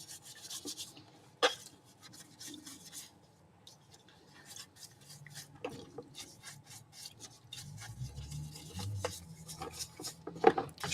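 Metal tool scraping residue out of a mechanism, a quiet, irregular rubbing and rasping with a few small clinks and one sharp tap, close up.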